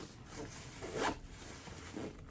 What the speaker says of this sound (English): So we'll go ahead and zip this down.